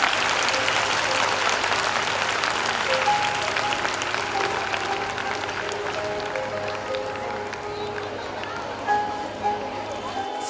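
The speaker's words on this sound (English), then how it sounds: "Please give them a huge round of applause" An audience at a college competition applauds the winners, a broad wash of clapping that slowly thins out, with a voice speaking over the fading applause toward the end.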